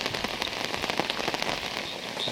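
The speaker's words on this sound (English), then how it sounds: "I think this is going to be the heaviest rain today" Heavy rain falls in a dense, continuous hiss of drops drumming on surfaces, loud and steady with scattered sharper patters and no voices.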